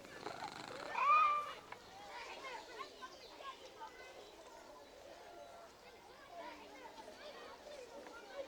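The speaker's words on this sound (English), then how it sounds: "Yes, we can pet the cats." A cat in Assassin's Creed Mirage purrs softly while being petted, a low, continuous rumble under game ambience with a brief louder meow-like cry near the start.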